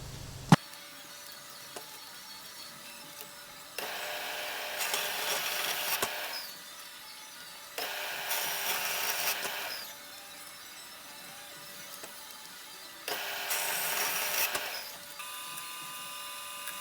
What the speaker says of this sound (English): So what you saw there was me cutting and assembling these threaded rods.